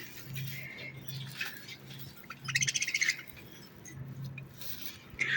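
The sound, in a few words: pet parrots chirping and squawking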